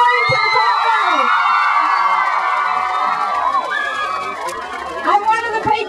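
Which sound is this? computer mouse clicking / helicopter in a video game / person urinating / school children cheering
school children cheering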